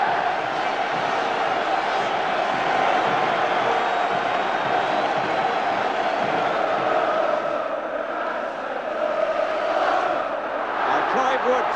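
Dense football crowd noise from a late-1970s English match, a steady roar of many voices that stays loud and continuous, with no single voice standing out.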